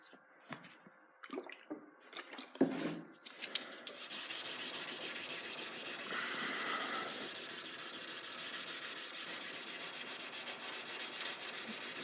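A handmade chef knife blade being hand-sanded to a 400 grit satin finish: a steady, close, continuous rasping scrub that starts after a few scattered handling taps and runs on alone without pause.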